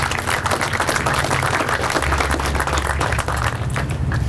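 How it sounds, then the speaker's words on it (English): Dense, steady applause from a press-conference audience welcoming Councilman Paul Livingston at a Villa Tronco historical marker event, continuous and fairly loud throughout. "Will you all clap your hands and receive him?"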